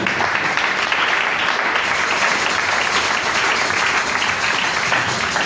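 Congregation applauding during a Sunday sermon at an evangelical church in Matadi, a loud, sustained wash of clapping that stays even for several seconds.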